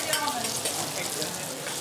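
Pork belly sizzles in a pan in a busy restaurant kitchen, giving a steady, loud frying hiss that runs throughout without a break.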